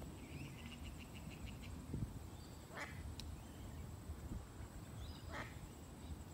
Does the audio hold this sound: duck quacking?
yes